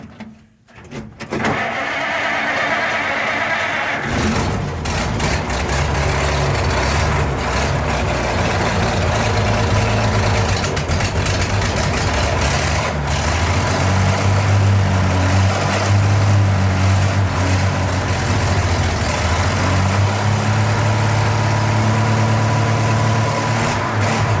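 A rockabilly rat rod engine idles loudly and steadily up close after a brief start, a rough low rumble with slight unevenness.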